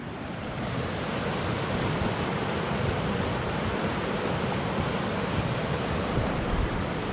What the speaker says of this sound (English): You can see how fast the river is here.